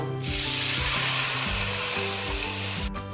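Boiled lentils hit a pan of fried garlic and onion with a sudden loud sizzle that hisses steadily and then cuts off sharply near the end.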